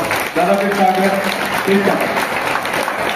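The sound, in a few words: audience applauding loudly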